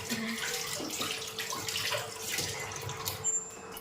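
A kitchen tap runs in a steady hiss while hands are washed under it. The flow is soft and continuous, with faint splashing.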